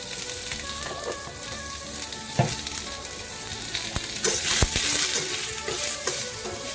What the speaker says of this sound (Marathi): आपण थोडं 1 चमचा तेल घालूया, थोडंसं मीठ घालूया आपण, जेणेकरून कांदा लवकर मऊ होणार